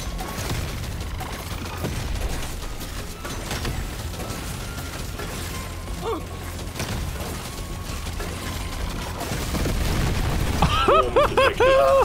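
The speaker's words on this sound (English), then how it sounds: "Oh, I love the explosions in this game." Explosions from the video game Deep Rock Galactic: Survivor, a steady dense run of booms, pops and clanking mechanical game effects, growing louder near the end with bright chiming pickups.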